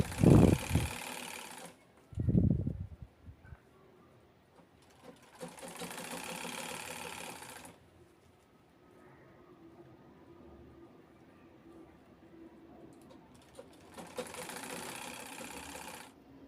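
Sewing machine stitching piping onto a cloth shopping bag, close mechanical whirring in three bursts separated by pauses with soft handling sounds and a couple of louder bumps.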